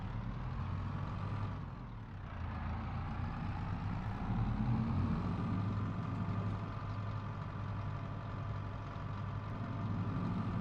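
A tree harvester in Farming Simulator 22 drives along with a steady, droning engine, low and continuous throughout with a brief dip in pitch early on, no talk over it.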